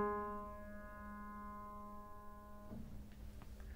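A single atonal trichord of three pitches sounds as one quiet sustained chord, then stops abruptly, leaving faint clicks and background hiss.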